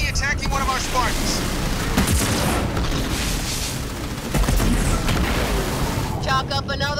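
Sustained ground fire and booming explosions in the real-time strategy game Halo Wars 2, a continuous roar of gunfire and blasts throughout, loud and dense, with radio voices briefly heard.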